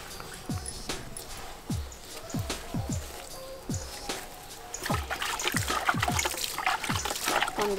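Water from a hand pump falls in repeated gushes and splashes, each stroke giving a dripping, pouring burst; the rhythm quickens and turns into denser splattering toward the end.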